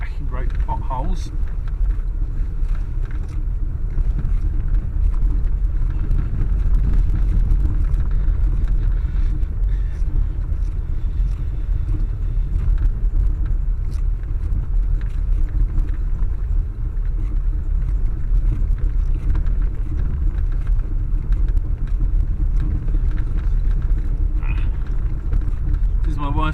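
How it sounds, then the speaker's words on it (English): A Classic Mini Automatic drives down a rough, potholed road toward a small car park, its engine and tyre rumble loud and steady throughout, with the low drone of the cabin filling the whole stretch. "I'm not sure she'll be overly happy with me driving it down this rough old road."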